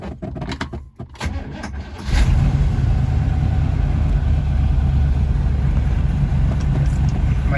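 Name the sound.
1961 Corvette engine running with Holley carburetor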